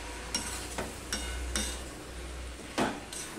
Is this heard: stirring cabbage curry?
yes